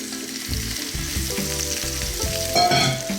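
Fennel sizzles steadily in garlic lemon butter in a stovetop pan, a continuous close frying hiss with soft stirring bumps and a brighter surge of sizzle near the end, no voices.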